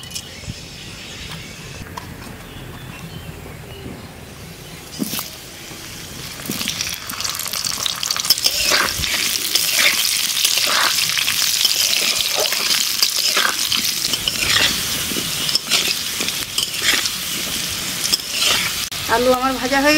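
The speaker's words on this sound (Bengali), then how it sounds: "মাছের তেলে আলুগুলো ভেজে নেবো" Potato pieces fry in leftover fish oil with Bengali five-spice in a home kitchen, a constant hiss that grows louder and busier partway through, with stirring scrapes and faint talk.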